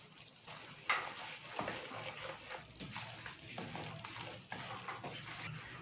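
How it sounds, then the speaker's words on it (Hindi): Panjiri fries on a low flame with cardamom powder as a spoon stirs it, making a soft, continuous scraping and gentle sizzle with one louder knock early on; no voices. "स्लो आंच पे आप इसको फ्राई करते जाएं। साथ ही इसमें इलायची पाउडर ऐड कर दें"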